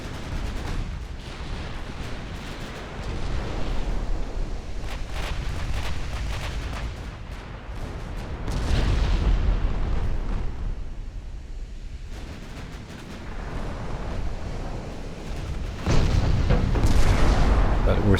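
Naval artillery salvos and shell explosions rumble through a battleship engagement in Ultimate Admiral Dreadnoughts, loud and continuous with repeated heavy booms swelling in waves over about eighteen seconds.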